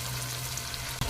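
Onion and tomato sautéing in oil in a pan for an eggplant curry, giving a low, steady sizzle throughout with a brief soft clatter near the end.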